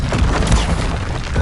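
A Confringo spell explosion in a Harry Potter video game bursts as a short, loud, rumbling boom of low noise lasting about a second and a half.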